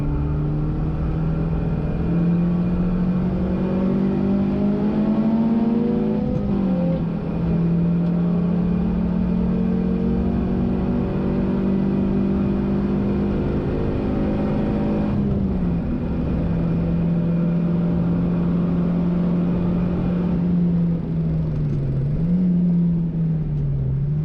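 A car engine drones loud and steady at a Pukekohe track day as a BMW E46 accelerates down the back straight, its pitch climbing and then dropping briefly at each of several gear changes.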